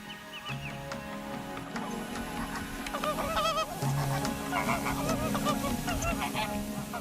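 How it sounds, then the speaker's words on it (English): A dense chorus of honking, goose-like calls from flamingos and other coastal birds at Lake Rosa in Inagua National Park, overlapping continuously at moderate distance. "Many species of coastal birds can be spotted at Lake Rosa, mixing easily with the flamingos."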